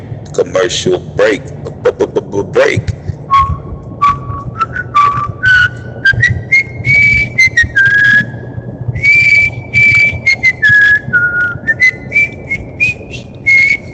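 A commercial whistle jingle, a melodic rising and falling tune in short phrases, heard over a low rumble of background noise and brief voices at the start.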